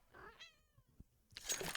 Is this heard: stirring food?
no